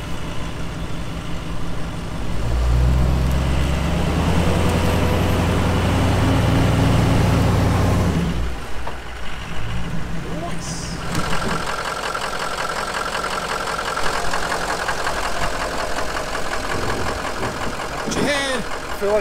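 A bus engine rumbles close and loud during a recovery pull, a heavy idle swelling into a strained run, then easing back while people talk over it.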